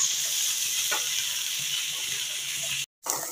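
Sliced onions and green chillies sizzle and fry together in a pan for a lachedar kharai anda, a steady close hiss with a few stirring scrapes. The sound drops out briefly near the end.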